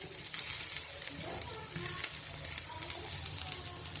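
Potato maakouda fritters frying in a shallow pan, producing a close, continuous bubbling sizzle at an even, fairly quiet level.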